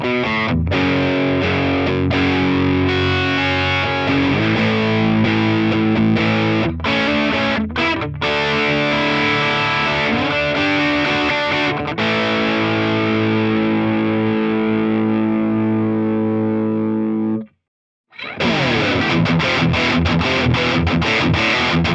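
A Schecter Banshee electric guitar plays heavily overdriven riffs and sustained chords through a Fulton OCD pedal and an EVH 5150 amp. It is loud and continuous, with a brief silent break near the end before the playing resumes.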